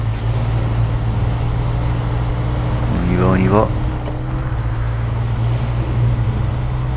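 A car in SnowRunner drives with a steady low engine drone throughout, while someone speaks briefly in French over it midway.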